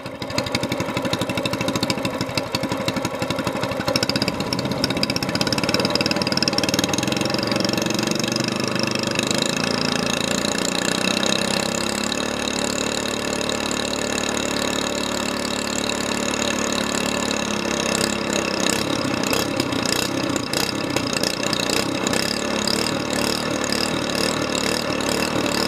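Small mud motor engine running steadily and loudly after a start with choke, its pitch shifting partway through as the governor takes over, then settling into an even drone with a faster, rougher pulse toward the end.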